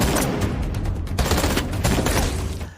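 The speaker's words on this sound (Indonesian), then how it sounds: "Baku tembak pun pasti tak terelakkan dari kedua kubu saat Pikram dan tim masuk ke dalam." A gunfight in a film scene, with dense overlapping gunshots and rapid bursts of automatic fire, loud and continuous before easing slightly at the end.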